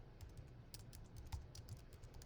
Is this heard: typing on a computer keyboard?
yes